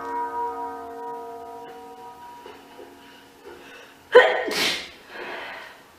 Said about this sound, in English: I was trying to hold in that sneeze, but it was not happening